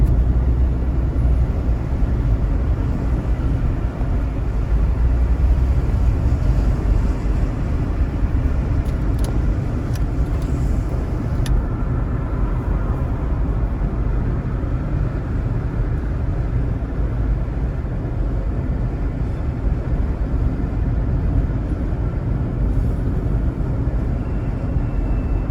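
A car cruises along the Port Kingston Causeway in Jamaica, giving a steady, loud broadband road and engine rumble that stays constant with no breaks from start to finish.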